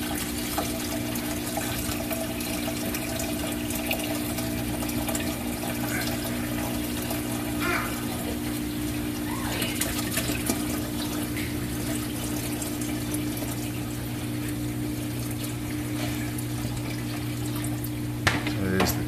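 Two litres of water pour into a sump set up for a phytoplankton culture with an air stone, a steady close splashing flow that runs unbroken over a constant low hum for the whole stretch.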